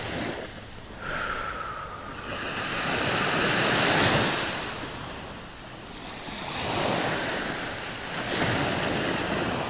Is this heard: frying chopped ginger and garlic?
no